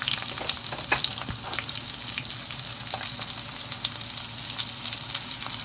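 Onions and sweet chili fry with minced turkey in a hot pan, giving a dense, even sizzle with crackling pops throughout and a brief utensil knock near the start, no voices.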